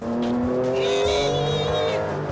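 A Maserati MC12 supercar sweeping through a corner, its engine a loud sustained drone with shifting tones and a hint of tire squeal, close and continuous throughout.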